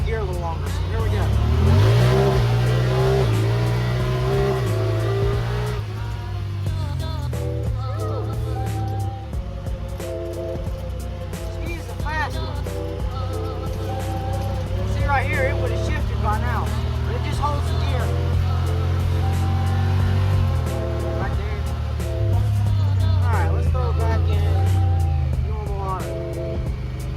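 A 2022 Honda Pioneer 1000-5 side-by-side pulls hard in sport mode, its engine revving and holding first gear with a loud, steady drone and rising pitch, while someone talks over it throughout.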